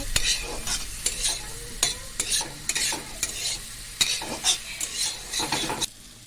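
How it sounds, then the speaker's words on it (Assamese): Hyacinth beans fried with spices in a pan are stirred with a utensil in brisk, irregular scraping strokes that clack against the metal over a low background sizzle, close up. "ইয়াত এনেকৈ মছলাখিনি দি এইখিনি ভালকৈ ভাজি ল'ব অকণমান।"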